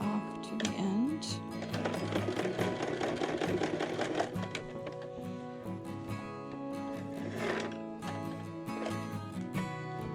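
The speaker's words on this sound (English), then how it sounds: "I'm going to sew to right here and turn my project, sew right off to the end." A sewing machine stitches through plush minky fabric with a steady, fast mechanical whir, running continuously with short pauses in pace, close by with no talking.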